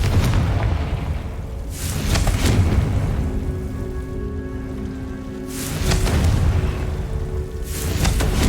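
A Confringo fire-blast spell from Hogwarts Legacy, heard as repeated booming bursts of noise that swell and roll away, with rain-like crackle filling the spaces between.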